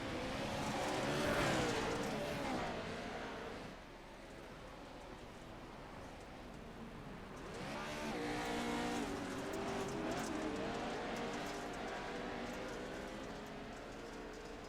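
Pro 4 race cars roaring around the Crandon track in a pack race, engines rising and falling as several cars pass close by, with tire noise and a continuous loud drone of racing engines.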